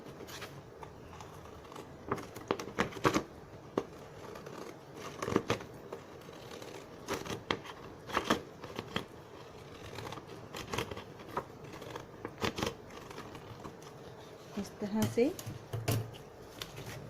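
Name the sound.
zigzag scissors cutting paper strips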